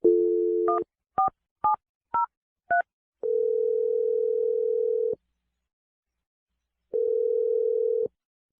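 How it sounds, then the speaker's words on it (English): A telephone dial tone hums, then a run of five short touch-tone beeps dials a number, followed by a long ringback tone, a pause and a second ring. "I'm going to dial his number right now."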